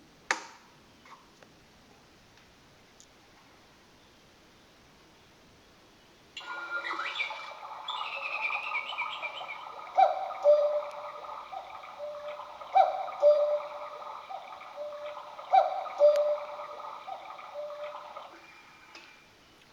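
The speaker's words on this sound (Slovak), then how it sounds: "V tejto pozícii kukučka kúká na hlas." A cuckoo clock runs with steady ticking, then a mechanical whir starts and the cuckoo calls sound at regular intervals, fairly close and clear.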